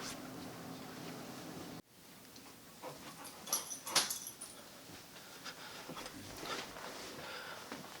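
A pet dog at home asking to be let outside to relieve itself, heard as faint, soft whimpers clustered in a short burst amid quiet room tone, with a light jingle like keys and no talking.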